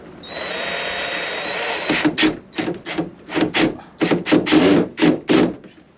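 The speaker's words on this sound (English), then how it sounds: "I'll go get the fucking drill." A power drill with a Phillips bit drives screws while a door knob is replaced. One long steady whine is followed by a string of short bursts as the trigger is pulsed, close and loud.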